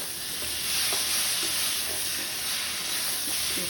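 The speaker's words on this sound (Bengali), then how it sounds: "সবজিগুলো একটু নাড়াচাড়া করে" Vegetables stirred in a pan with pomfret fish and spices, a steady sizzling hiss throughout with soft scraping strokes beneath, close and continuous.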